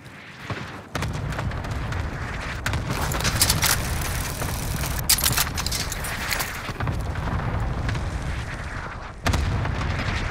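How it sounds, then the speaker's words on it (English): Cluster strike explosions in Call of Duty: Modern Warfare rumble and crack continuously as a loud, dense barrage with bursts piling over each other, a brief drop near the start and a sharp renewed blast near the end. "Cluster strike is active."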